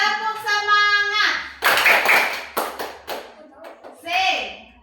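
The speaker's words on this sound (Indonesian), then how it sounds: "Tepuk semangat." Schoolchildren in a classroom perform a rhythmic spirit clap chant, sharp bursts of group handclaps alternating with chanted children's voices in a brisk, patterned beat.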